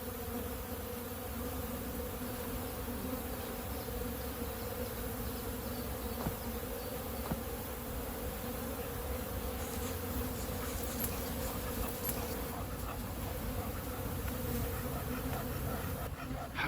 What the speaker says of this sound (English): I can hear a distinctive droning noise like you get with a bee swarm or wasps around a nest